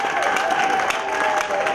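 Church congregation clapping and cheering during a service, a crowd's applause mixed with voices and a sustained tonal hum, continuous and moderately loud for under two seconds.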